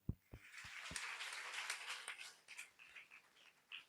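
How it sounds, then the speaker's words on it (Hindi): Congregation clapping hands during a Sunday church service in Karim Nagar, a few sharp claps at first, then dense sustained applause-like clapping that continues throughout, moderately loud with no speech. "ताली बजाकर प्रभु की महिमा करें हम।"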